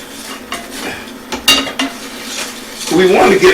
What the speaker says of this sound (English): we're going to go ahead and we're going to stir this in